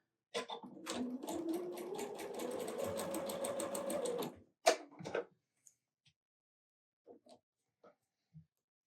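Sewing machine stitching a quilt block for a Christmas snowman pattern, running steadily for about four seconds, then a short second burst followed by faint clicks and handling sounds.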